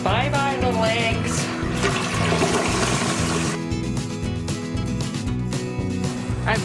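Water flushing down a household drain to wash away squash bugs, a loud churning rush that stays steady and then thins toward the end.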